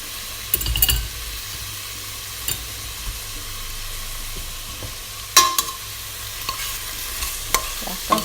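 Carrots and celery sizzle in a pot for an Italian beef stew, a steady low frying hiss punctuated by a few sharp spoon knocks and scrapes against the pot as they're stirred.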